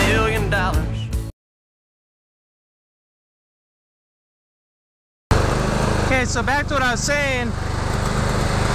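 A lawn mower runs with a steady, loud engine drone beneath someone talking nearby; the sound cuts out completely for a few seconds, then resumes at the same level.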